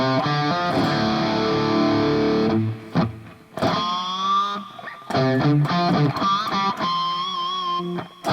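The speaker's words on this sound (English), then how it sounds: "All right, slowly from the very beginning of the guitar solo" A distorted electric guitar plays a guitar solo, alone and close. Sustained bent notes are broken by short pauses and picked runs, with no talking.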